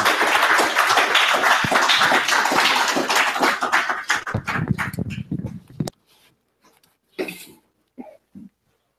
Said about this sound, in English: Help me to receive him with a warm round of applause